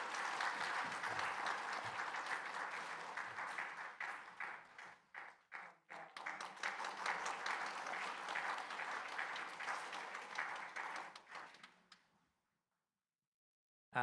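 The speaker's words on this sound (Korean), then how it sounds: "큰 박수로 축하해 주시기 바랍니다" A church congregation claps together in sustained, even applause that breaks into scattered claps, dies out after about twelve seconds, and leaves silence.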